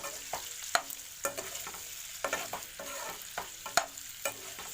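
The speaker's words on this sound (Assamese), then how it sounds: "এতিয়া মাংসখিনিৰ পৰা অলপ তেল ওলাবলৈ লৈছে।" Pork sizzles in its own rendered fat inside a covered pan, a steady soft frying hiss broken by repeated sharp clinks and scrapes of stirring.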